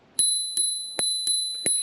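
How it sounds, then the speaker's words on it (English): A dual spring-mounted bell on a Hiboy S2 Pro electric scooter rings five times in clear, bright, sustained strikes with a lingering metallic tone, close and alone. "It is a dual bell"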